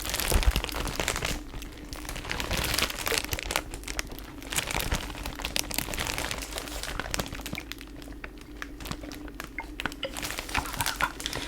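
Steady plastic crinkling and rustling close by, continuous with irregular crackles, as a torn plastic bag holding a bottle of cologne is handled.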